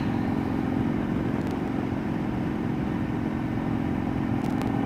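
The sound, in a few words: motorcycle engine riding, GoPro Hero 8 test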